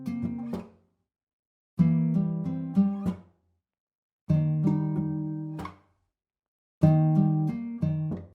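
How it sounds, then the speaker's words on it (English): Ample Guitar L virtual acoustic guitar plays a repeating picked arpeggio pattern following a chord progression, four short plucked phrases separated by brief gaps, clean and close with no voices. "Next, we're going into ample guitar L, and we're playing in this pattern right here."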